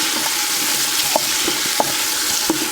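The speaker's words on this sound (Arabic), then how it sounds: "أقلب الطماطم مع البصل." Tomatoes and onions fry in a pot with a steady, close sizzle while being stirred, and a spoon scrapes and clinks against the metal every second or so.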